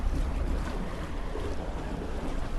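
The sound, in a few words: swimming in water, from the video game Animal Company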